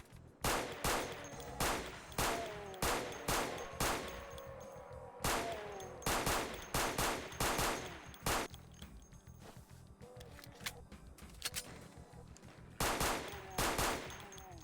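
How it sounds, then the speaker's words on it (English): Pistol gunshots in the video game Resurrection of Dawn 3.0, a rapid string of sharp, punchy reports fired one after another with brief gaps, loud and close throughout. "Pistol sounds a lot hardier now, which is good"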